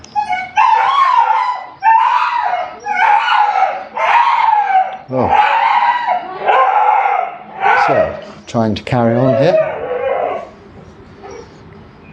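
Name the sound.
dog barking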